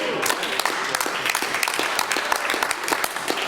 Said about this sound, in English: Oh, wait, there's reason to clap.